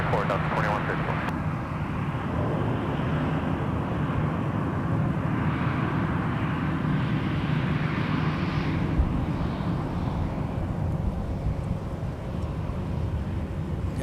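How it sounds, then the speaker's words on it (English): Airbus A321 jet engines rumbling at Minneapolis–Saint Paul airport: a continuous loud roar with a rising whine, joined by radio voices. "Got an A321"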